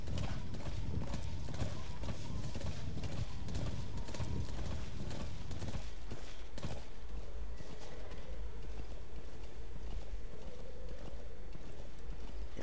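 Rapid clip-clop of horse hooves at a gallop in the video game Metal Gear Solid V: The Phantom Pain, loud and continuous, later mixed with rumbling game ambience.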